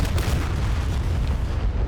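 An AGM-45 Shrike missile launched from an F-4E in DCS gives off a loud, continuous rumbling roar, a dense low boom that holds steady for about two seconds, with no voices.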